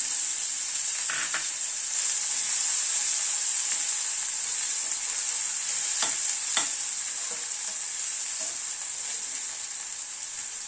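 Chopped onion fries in hot oil in a pan over a medium gas flame for a rohu fish curry, giving a steady close sizzle throughout with a few soft stirring scrapes.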